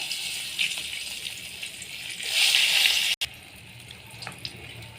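Whole dried red chillies fry in hot oil for a bata fish curry, giving off a steady hissing sizzle that swells louder for a moment, cuts off abruptly, then settles back to a quieter crackle.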